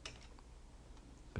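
Computer keyboard keys tap quietly while entries are made in Korean accounting software, a few soft, sparse clicks over low hum, ending with a louder clunk.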